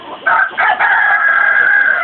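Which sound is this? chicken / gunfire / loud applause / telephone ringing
chicken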